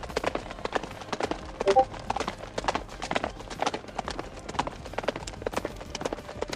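Horses gallop in a video game battle, a dense, continuous clatter of many hooves that runs throughout at moderate volume with no clear speech.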